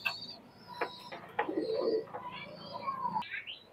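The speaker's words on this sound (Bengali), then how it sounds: "সবই ভালো সেটিং পেয়ার কবুতর মাশাআল্লাহ" Setting pair pigeons in a Pakistani highflyer loft give a few soft, low coos at close range, with brief fluttering and small knocks in an otherwise quiet space.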